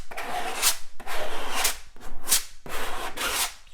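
A thin hard skim coat being troweled onto a wall, four repeated scraping strokes, each a close, loud rasping sweep ending in a bright hiss, with brief pauses between passes.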